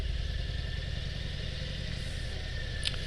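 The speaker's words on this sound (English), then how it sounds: "This, you hear all engine in this one." A 2022 Heritage Classic motorcycle engine idling, a steady low throbbing rumble with mechanical clatter, close and constant, with a brief faint click near the end; no talking.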